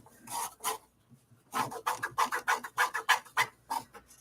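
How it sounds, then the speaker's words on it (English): Gentle scraping along the seam of a rag doll's fabric body as it is turned right side out, a run of short rasping strokes, two at first, then a quick steady series of about a dozen close-up rubs. "I'm just kind of scraping along the seam to make sure it's all turned right side out, gently"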